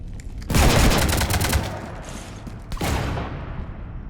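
Gunfire raking a ship in the video game Mass Effect 3: a loud, dense burst of rapid shots for about a second and a half, a pause, then a second sharp burst that fades out, with no talking over it.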